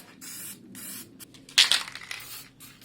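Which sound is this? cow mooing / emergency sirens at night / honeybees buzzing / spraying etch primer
spraying etch primer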